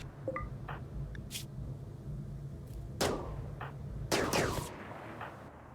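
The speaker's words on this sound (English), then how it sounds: "Now, what is this other gunfire?" Sparse gunshots ring out in RimWorld, sharp isolated cracks at a distance with a couple of louder bursts and quiet gaps between them.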